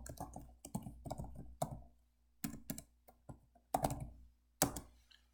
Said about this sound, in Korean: 이름을 쓰고 반드시 엔터를 눌러주셔야지만 이름이 적용됩니다